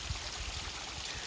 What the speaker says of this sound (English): look right here, it's like a practical waterfall